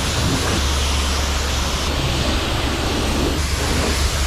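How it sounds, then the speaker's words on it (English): Water spraying down an S10 truck during a rinse without a brush, a steady dense hiss of pressurized spray with slight surges, continuous and close, no talk. "we're just doing a spray down."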